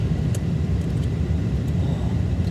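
A car rides along on the road, heard from inside the cabin as a steady low engine and tire rumble with no talking.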